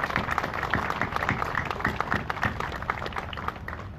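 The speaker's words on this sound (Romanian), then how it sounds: "O să vă rog frumos să-i aplaudăm" An outdoor audience at a Christmas lights switch-on ceremony in Ploiești claps continuously, with many hands giving a dense, irregular patter of fairly close, moderately loud applause.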